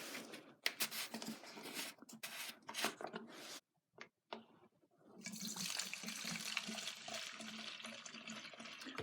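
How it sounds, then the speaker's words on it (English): Gasoline pours and splashes steadily into the fuel tank of a Losi DBXL RC car, with a few brief bursts early, a short pause, then a continuous, close gurgling stream. "I think we should pour some gas in it and see if it fires."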